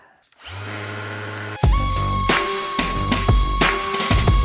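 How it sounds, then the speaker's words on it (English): A power sander works a wooden hatchet handle, smoothing out deep rasp scratches. After a low hum, the tool starts with a loud, steady whine and a grinding rasp that runs on with slight surges. No talking. "So, let's sand."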